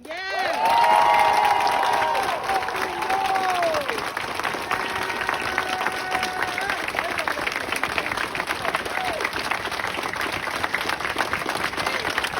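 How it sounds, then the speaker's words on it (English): Sustained applause and cheering from a large protest crowd, with a whistle-like whoop at the start and clapping continuing steadily under scattered shouts. "Keep going. Keep clapping. Clap for yourself."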